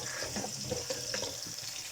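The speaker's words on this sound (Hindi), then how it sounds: "प्याज को भी सुनहरा कर लेंगे।" Onions sizzle in a pan, frying until golden for vegetable biryani, with a steady close crackle and small bursts of spitting oil.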